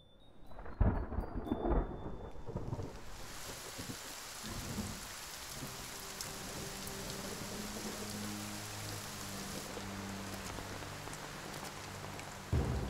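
Steady rain pours down while rolling thunder rumbles heavily in the first couple of seconds, then the downpour continues as an even, close hiss with no voices.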